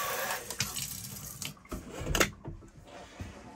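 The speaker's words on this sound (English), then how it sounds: "I love this faucet, it works great" Water runs from a bar faucet into a small sink in a 2020 Sprinter 4x4 overlanding van, a steady, quiet splashing stream with a few soft knocks.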